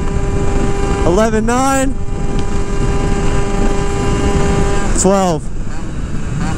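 Honda Dio 72cc AF16 scooter fitted with a prototype exhaust pipe, its two-stroke engine rising and falling in two sharp revs over a steady idle drone, close and loud, with someone talking briefly between them.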